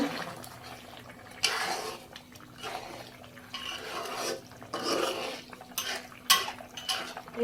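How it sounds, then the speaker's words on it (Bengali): A pot of broiler chicken and potatoes being stirred, with scraping clatters of a spoon against the metal in several bursts over a steady low hum, near and moderately loud, no talking. "মাংস এবং আলু সিদ্ধ হওয়া পর্যন্ত অপেক্ষা করব এখন আমি একটু নাড়া দিয়ে দেব"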